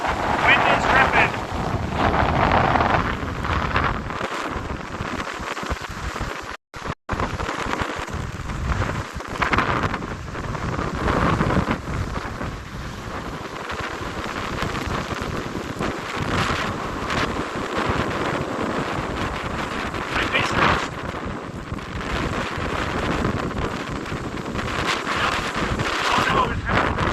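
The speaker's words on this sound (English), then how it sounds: "Wind is ripping." Strong winter wind roars steadily across an open microphone on the Lake Superior shore in Minnesota during a storm, a loud continuous gusting rumble with a brief dropout partway through.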